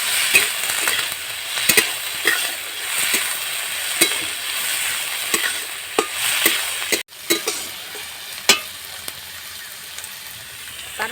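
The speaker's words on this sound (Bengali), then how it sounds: "তারপরে এর মধ্যে দিলাম আমি টমেটো কুচি।" Chopped tomatoes frying in a pan, with a steady sizzle and repeated scraping stir strokes throughout, plus a brief cut partway through.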